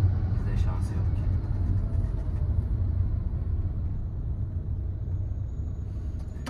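A Volkswagen Golf 7 on the move, heard from inside as a constant low rumble of engine and road noise that holds steady and close throughout.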